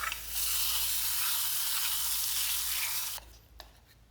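Small onions sizzle loudly in hot coconut oil, a steady bright frying hiss for about three seconds before it cuts off, leaving only a faint clink and quiet room tone.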